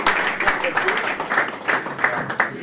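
Applause breaks out at a futsal club honours ceremony, a loose patter of clapping from a hall audience heard under a speaker's voice.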